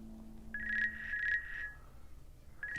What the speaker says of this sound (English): Please allow me to pick up the phone.